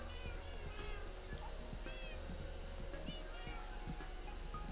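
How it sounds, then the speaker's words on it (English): A Minecraft cat lets out a few faint, repeated rising meows in a quiet game scene, with soft low background noise and a faint voice underneath. "I'm sorry you guys have to listen to the eternal cat cries."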